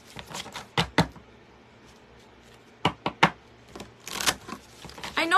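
A deck of oracle cards is shuffled in several quick riffling bursts, crisp and close, with brief pauses between them.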